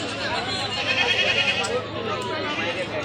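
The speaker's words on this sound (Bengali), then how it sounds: "এই যে ছাগল ছাগলের হাট গরুর সাথে ছাগলও উঠে" Goats bleat at a large cattle and goat market in Chupai, Kaliganj, Gazipur, heard through a dense, steady crowd murmur and chatter, with the animal calls blending into the noisy background.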